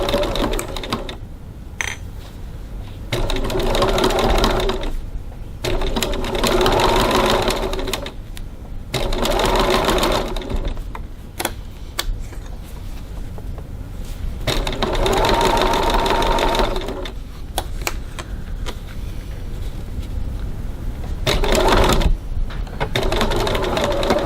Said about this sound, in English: so now we're just going to stitch these short bits just to hold our gusset in place